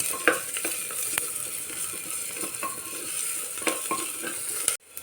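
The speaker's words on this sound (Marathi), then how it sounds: "छान मिक्स करून घ्यायची आपल्याला कांदा आणि अद्रक लसूण पेस्ट" Onion and ginger-garlic paste fry in a pan for a mutton dish while a spoon stirs them, giving a steady close sizzle broken by scraping clicks, ending abruptly.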